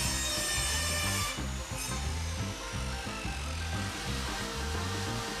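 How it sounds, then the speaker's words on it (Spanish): A power saw cuts a recycled wooden board at a 30-degree angle for a pet house, a loud continuous whine with a rhythmic pulsing undertone running steadily throughout, close up and without talk. "Por último vamos a cortar esta tabla con un englete de 30 grados"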